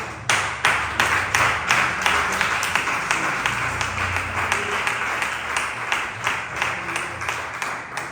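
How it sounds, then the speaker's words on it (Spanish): A church congregation claps together in a steady rhythmic beat, loud and close, with many hands striking in time for the whole stretch and no clear talk. "Dale un fuerte aplauso al Señor Jesús."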